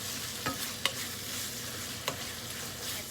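Dry chili, sugar and salt are stirred in a hot pan, giving a steady sizzle broken by a few sharp scrapes of the spoon, close and clear with no talk.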